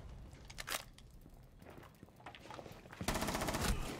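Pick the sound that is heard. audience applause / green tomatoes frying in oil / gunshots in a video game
gunshots in a video game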